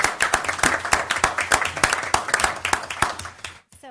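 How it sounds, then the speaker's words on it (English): A round of applause fills a council meeting room, steady close clapping from a group for a few seconds before it cuts off abruptly. "Okay, I get a round of applause for you guys."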